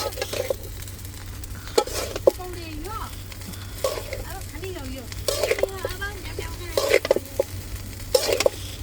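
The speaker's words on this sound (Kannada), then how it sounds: "ಇವಾಗ ಮಿಕ್ಸ್ ಹೊಡಿಯೋದೆ." Egg rice with onion being stirred in a pan at home, with scraping strokes and a soft sizzle spread through, while a person talks intermittently over it.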